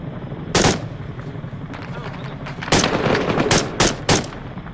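Heavy automatic gunfire in the military video game Arma 3 comes in a few loud, separate bursts over steady background noise, with muffled talk in between.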